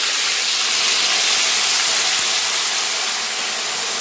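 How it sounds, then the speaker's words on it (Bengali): Onion, ginger and garlic paste hitting hot oil in a home kitchen pan gives a loud, steady, close sizzling hiss that holds evenly from start to finish, with no talking. "এই যে তেল গরম হয়ে গেছে, এরপরে মা পুরো পেস্টটা পেঁয়াজ আদা রসুন পুরো পেস্টটা দিয়ে দিল"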